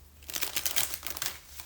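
Tarot cards are given a side-to-side shuffle, a quick flurry of crisp papery riffling and flicking lasting about a second, close and moderately loud with no talking.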